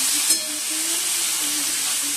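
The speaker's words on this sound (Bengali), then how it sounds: "মাছটা ধুয়ে ভাজাও বসিয়ে দিয়েছি" Fish fries in a pan of oil, a steady, even sizzle with a soft hiss heard close and alone, with one faint clink near the start.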